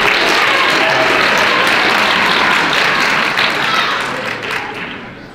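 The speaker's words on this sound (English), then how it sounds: "Anytime you feel like you should clap, go ahead and do that." Lecture audience bursting into loud, sustained applause, dense clapping that fills the room and slowly tapers off toward the end.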